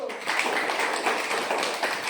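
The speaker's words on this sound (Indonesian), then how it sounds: "Tepuk tangan untuk kelompok 1." A classroom of students claps for a group after its presentation, a dense, steady patter of many hands that fills the short stretch at moderate volume.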